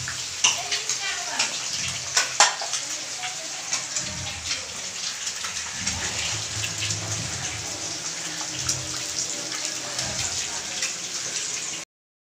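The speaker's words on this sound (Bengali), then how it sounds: "এই 2 বছর ধরে দেখছি আমার জন্মদিনে বৃষ্টিটা হচ্ছে।" Rain falls steadily as an even, continuous hiss of drops with a few louder splashes, and faint voices can be heard now and then underneath.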